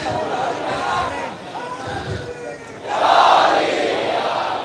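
Crowd at an Urs gathering raising loud religious slogans, voices massed and swelling in a burst near the end, with a chanting leader between shouts.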